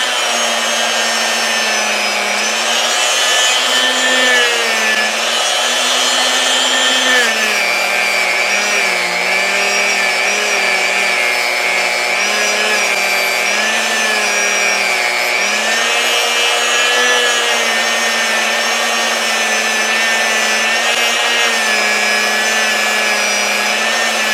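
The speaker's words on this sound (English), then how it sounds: "what better way to clean and scrub it than with a stainless steel wire wheel?" A stainless steel wire wheel scrubs crud off a bearing, giving a loud, steady whirring rasp with a sustained high hiss that runs unbroken throughout, its pitch wavering slightly as pressure shifts; no voices are heard.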